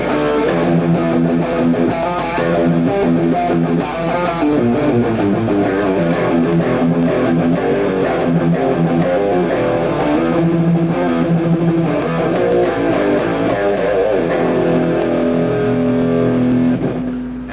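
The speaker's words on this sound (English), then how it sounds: "All the distortion is coming from the Marshall." Loud distorted electric guitar plays continuously through a Marshall amplifier, with sustained gritty chords and riffs.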